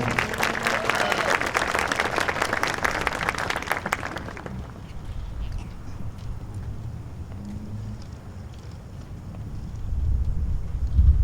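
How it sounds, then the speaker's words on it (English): A burst of audience applause at a Veterans Day ceremony in Belleville, Illinois, dense clapping for about four seconds that cuts off, leaving a low rumbling room murmur behind. "Give him a round of applause,"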